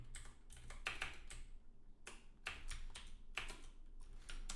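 Rapid bursts of keystrokes on a computer keyboard as a folder name is typed, clustered taps with brief pauses between groups, close and clear with a low steady hum underneath and no talking.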